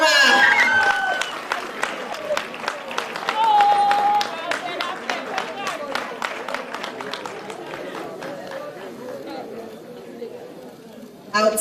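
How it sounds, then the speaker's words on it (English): Audience applause and crowd chatter at a televised awards ceremony for an economic reporting winner, scattered clapping rising briefly and carrying on as a steady murmur, with a voice speaking over it. "Please give him a warm round of applause."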